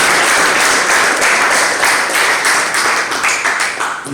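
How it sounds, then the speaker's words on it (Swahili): Concert audience applauding as performers return to the stage at a pot culture concert, loud dense clapping with a few rhythmic surges, close and sustained, tapering slightly toward the end. "Wapi makofi hao wakirudi stage?"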